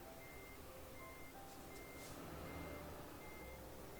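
Truck reversing alarm in Euro Truck Simulator 2, a steady repeating series of short electronic beeps at an even rhythm, heard over constant engine and road rumble with no talking.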